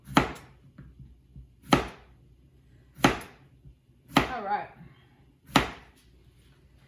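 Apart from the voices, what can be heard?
knife chopping vegetables for pickle chips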